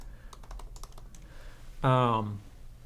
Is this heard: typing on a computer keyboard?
yes